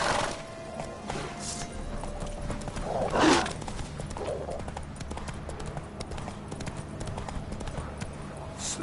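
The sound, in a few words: horse galloping and neighing in a video game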